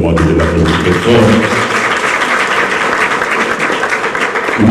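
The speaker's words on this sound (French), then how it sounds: "je voudrais vous demander de l'applaudir très fort" Audience at an evening book-signing event applauds a minister of agriculture, with loud, steady clapping that begins under a brief spoken voice and continues alone.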